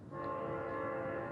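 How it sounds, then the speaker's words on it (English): A train horn sounding in a city street, one sustained chordal blast held steadily at a moderate distance, with no talking. "That is the sound of an amplified train"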